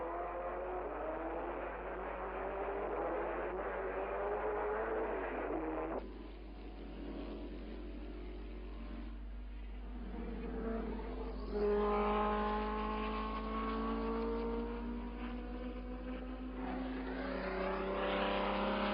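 Racing cars at the 1959 Dutch Grand Prix, including Ferraris in a chasing pack, heard as a continuous engine roar from a vintage, band-limited recording, with changing pitch as cars pass and a steady low hum underneath.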